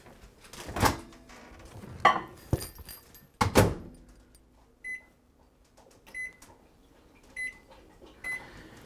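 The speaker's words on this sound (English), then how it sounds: "we're going to microwave this for 40 seconds" Several loud thunks and clatters like a door closing, then a microwave beeps four times at even intervals over a quiet hum.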